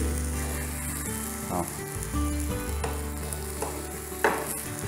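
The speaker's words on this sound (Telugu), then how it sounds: "కరెక్ట్ మంచిగా ఫ్రై అయినాయి, గోల్డెన్ బ్రౌన్ కలర్కి వచ్చినాయి అన్నీ." Eggs fry in a pan with a steady, close sizzle and crackle, with a few soft scrapes and clinks of stirring over the top.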